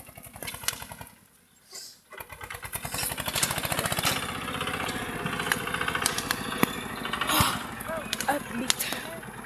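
Tractor engine running near a fire, a rough pulsing putter that builds in loudness after a brief dip, with people talking over it.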